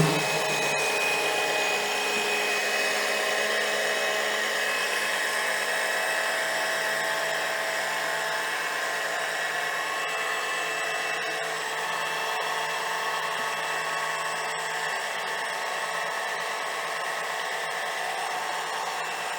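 An oil extractor pump draws oil out during generator maintenance. It gives a continuous high electric whine and hum at a steady level, close and alone for the whole stretch.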